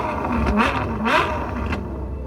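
A Citroën Saxo small car engine revs twice in quick succession, short rising blips over a low idle rumble, heard close by.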